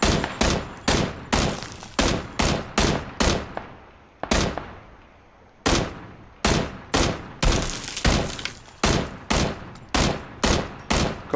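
Rapid bursts of automatic gunfire in a PUBG firefight, loud and close, with repeated volleys, a brief pause midway, then sustained shooting resuming to the end.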